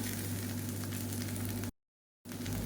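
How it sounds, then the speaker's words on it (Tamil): Eggplant and potato curry sizzles steadily while roasting uncovered in an open pan, a constant close crackle that cuts out briefly to silence before resuming. "இப்படியே நல்லா ரோஸ்ட் ஆகட்டும் ஓப்பன் லிட்லேயே வச்சு நல்லா ரோஸ்ட் பண்ணி எடுத்துக்கலாம்"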